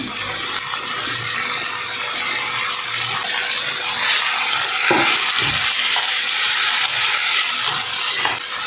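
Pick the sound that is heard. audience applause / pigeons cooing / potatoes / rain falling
potatoes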